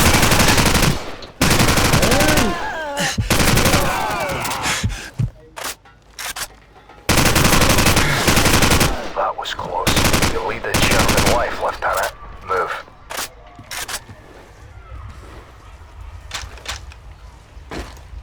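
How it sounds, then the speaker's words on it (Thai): Gunfire in Call of Duty 4: Modern Warfare: loud, dense bursts of automatic fire and single shots come in clusters, with brief pauses and quieter stretches between volleys, and some voice underneath. "ปืนมันยิงทะลุกำแพงได้ครับ"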